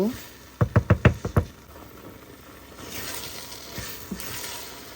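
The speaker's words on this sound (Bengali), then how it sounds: "এখন আমি এই মিশ্রণটিকে নেড়ে নেড়ে শুকিয়ে নিব" A sticky rice cake mixture with sugar stirred while cooking in a pot: five quick knocking scrapes of a utensil in a rapid burst, then a soft sizzle and a few scattered taps.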